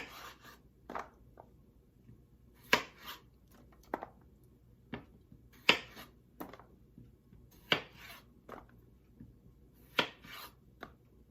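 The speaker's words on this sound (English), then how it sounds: "Maybe I'll just cut them all in half." A knife cuts potatoes in half on a board in a home kitchen, producing a dozen or so crisp, separate chops at uneven intervals against a near-silent background.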